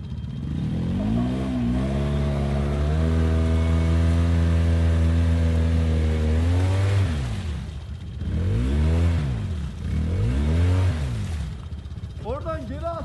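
Polaris 850 engine straining in icy water, revving loudly in long rising and falling bursts that swell and drop repeatedly, with people shouting and talking over it.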